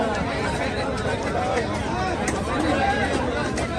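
Dense crowd chatter and overlapping voices of people queuing before dawn at a mutton shop, a continuous close babble with no single voice standing out.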